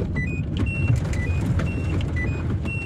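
A car drives along a road toward Saint-Claude, with a steady interior engine and tyre rumble throughout and faint high whistling tones over it, no talking.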